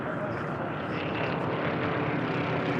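Formula One class racing propeller planes rounding a pylon at a national championship air race, a loud continuous engine drone passing by, with a commentator talking over it.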